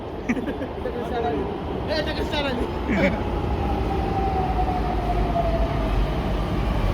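A metro train rumbles steadily along with a rising motor whine during the ride. People talk nearby over the constant noise of the carriage.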